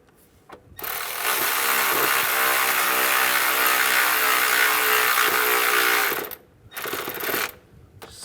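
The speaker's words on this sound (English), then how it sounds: "Get that bolt started and tighten it down." A bolt on the fuel line bracket of a 2004-2010 BMW X3 is tightened during intake manifold gasket replacement: a loud, steady mechanical whir runs about five seconds, then a brief second burst follows.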